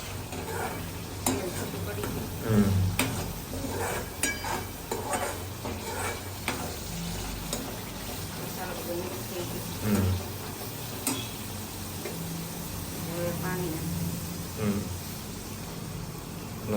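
Vegetable curry simmering in a pan with oil separated, a low bubbling sizzle with scattered stirring clicks and knocks, faint and steady, with a voice talking at moments.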